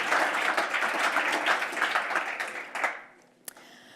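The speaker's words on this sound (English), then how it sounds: "So let's give that a round of applause." An audience breaks into a warm round of applause, with steady, rapid clapping for about three seconds before it fades away. A single sharp knock follows in the quiet.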